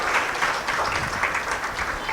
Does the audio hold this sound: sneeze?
no